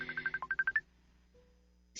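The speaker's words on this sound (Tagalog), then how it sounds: "Ang ako cellphone, di bagting." Mobile phone ringtone: a rapid run of about ten bright, pulsing electronic tones close by, then stopping abruptly and leaving near silence before a brief noise at the end.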